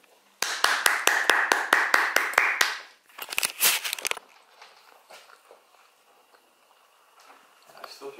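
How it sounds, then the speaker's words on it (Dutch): Hands clap in a quick, even rhythm of about ten sharp claps, followed by a short burst of looser clapping, then scattered quiet taps and rustles in a quiet room. "Allemaal applaus nu jongens."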